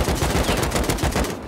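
Rapid automatic AK rifle fire in a video game ambush, a dense rattling burst of shots running nearly the whole moment before cutting off.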